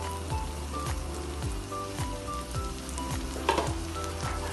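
Potato gnocchi with parmesan sautéing in a pan give a steady, close sizzle, with faint scraping stirs and a brief louder clatter near the end.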